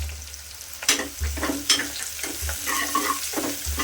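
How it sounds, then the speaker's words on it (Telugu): Onions with a pinch of salt sizzle and fry in a pan, a steady crackling hiss broken by a few clattering stirs of a spoon against the pan. "కొంచెం సాల్ట్ తీసుకొని వేసామంటే కొంచెం ఆనియన్ తొందరగా ఫ్రై అవుతుంది"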